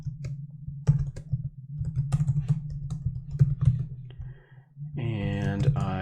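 Rapid, uneven clicks of a computer keyboard as code is typed, close and fairly loud over a steady low hum, pausing briefly before a burst of other sound at the end.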